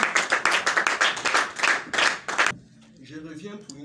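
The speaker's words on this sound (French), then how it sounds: "sur nos acclamations, s'il vous plaît, pour l'encourager" Audience in a church-style gathering bursting into dense, lively applause for a few seconds, then cutting off abruptly into quiet room sound with faint voices.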